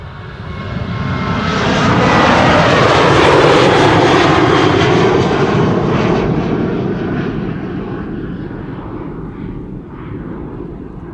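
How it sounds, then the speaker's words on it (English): A KLM jet airliner, registration PH-HBJ and fourteen years old, roars loudly on departure from Amsterdam Schiphol as flight 6601 to Innsbruck, its broad engine noise swelling to a peak and then slowly fading. "KLM flight 6601 on its way to Innsbruck."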